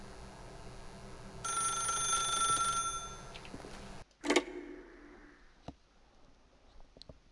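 An old-style telephone bell rings in The Stanley Parable, a steady metallic ringing for a few seconds, then a sharp click as the receiver is picked up, followed by faint handling noises in a quiet room.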